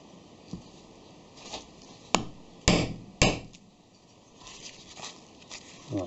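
A 10 mm hole punch struck with a hammer through a doubled piece of old tarp: several sharp, separate impacts at irregular intervals, close and clear over a quiet workshop background.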